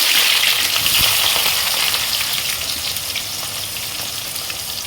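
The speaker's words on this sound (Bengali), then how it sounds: "তেল গরম হয়ে গেছে, ফোড়ন দিচ্ছি তেজপাতা, আস্ত গরম মশলা, টমেটো দিলাম, পেঁয়াজ দিচ্ছি" Bay leaf, whole garam masala, tomato and onion fry in hot oil for a light chicken curry, giving a loud, steady, close hissing sizzle that eases slightly over a few seconds.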